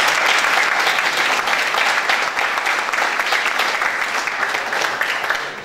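An audience at a cultural centre event applauds author Lorenzo Cucuru, a dense, steady wash of many hands clapping throughout, fairly loud and sustained, tapering slightly at the end.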